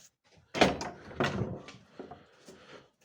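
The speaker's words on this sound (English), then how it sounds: "I must close the doors outside." House doors being shut from inside a home, a couple of solid thuds and latch knocks followed by softer rattles and bumps, close and moderately loud with quiet gaps between.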